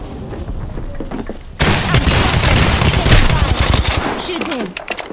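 Gunfire in Apex Legends, rapid bursts of automatic shots erupting loudly after a quieter start, rattling on for several seconds with brief pauses near the end.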